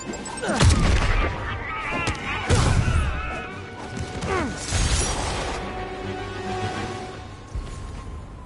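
A grenade blast in a PS4 video game, a run of heavy crashing booms and smashing impacts at close range, loud and repeated across the stretch, with a voice calling out amid the chaos.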